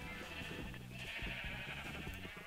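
Repeated sheep bleats from Minecraft, several overlapping calls in quick succession over a steady bright background hum, moderately loud throughout.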